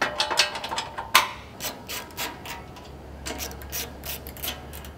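A hand ratchet clicks in quick uneven bursts while torquing down bolts on underbody bash plates of a Toyota LC200 Land Cruiser, close up, with a low steady hum beneath the later strokes.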